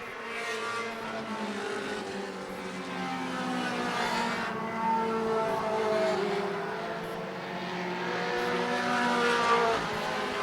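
Outlaw Mini race cars roar around an oval track on the final lap, a steady layered engine drone that swells and fades as the pack passes, heard from a distance with no talk.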